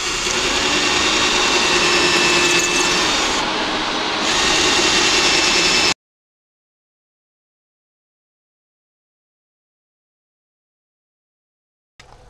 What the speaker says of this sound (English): Here how we got our vacuum cleaner here